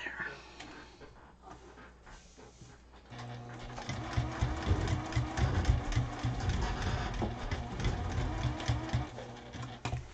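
A sewing machine top stitches a fabric bowl organizer: after a quieter start with brief talk, a steady rapid mechanical whirring and needle clatter starts up and runs continuously, close and clear.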